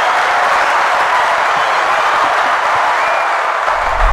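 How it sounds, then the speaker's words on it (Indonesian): Sustained applause from a live studio audience welcoming a guest, a steady, even wash of clapping that holds throughout and cuts off near the end. "Boleh kita kasih tepuk tangan Davi."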